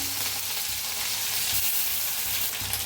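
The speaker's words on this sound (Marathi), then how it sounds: "आता जिरं चांगलं तापलं या त्याच्यात टाकूया लसूण आणि हिरवी मिरची" Crushed garlic and green chili dropped into hot oil with cumin seeds, giving a dense, steady sizzle that crackles close and continuous for a few seconds.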